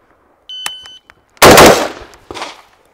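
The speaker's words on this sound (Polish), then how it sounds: "Karabin sam strzela po prostu." Rifle with a Kenu Riser raised mount firing a quick burst: a sharp loud crack at about 1.4 s with a decaying tail and a second shot just after, preceded by short electronic timer beeps.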